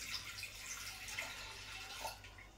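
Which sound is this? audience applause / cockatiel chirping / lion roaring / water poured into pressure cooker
water poured into pressure cooker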